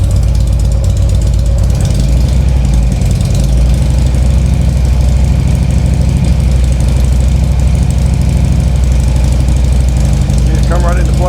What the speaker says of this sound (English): Now I'm going to raise the RPMs a little bit.